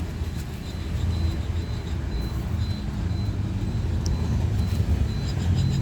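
A worn wheel bearing on a taxi grinds as the wheel is turned by hand, a low rough rumbling with faint intermittent higher squeaks.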